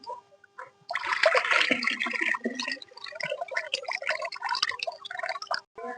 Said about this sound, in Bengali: এবার আমি দেখো জলের মধ্যে এটাকে আমি ভিজিয়ে নিচ্ছি ভালো করে